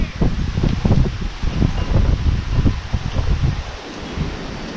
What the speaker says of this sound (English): as we're fighting torrential winds